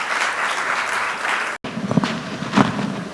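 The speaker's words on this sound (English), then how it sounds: "let's all put our hands together for these wonderful women" Award-ceremony audience applauding women honorees, a dense steady wash of clapping that cuts out sharply for an instant and resumes with scattered, more distinct claps.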